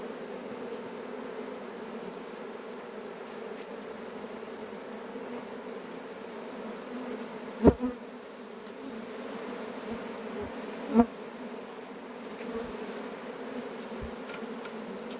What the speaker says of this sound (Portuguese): É muita abelha, pessoal, para entrar dentro da caixa.